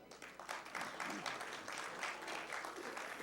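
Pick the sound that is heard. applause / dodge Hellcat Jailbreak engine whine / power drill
applause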